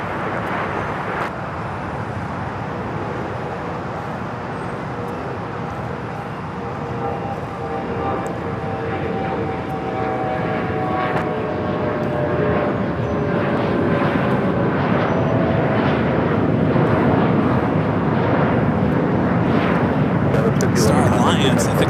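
A passenger airliner arriving at LAX from Phoenix gives a loud, steady jet roar that builds slowly and rumbles on for over twenty seconds, with people talking faintly underneath.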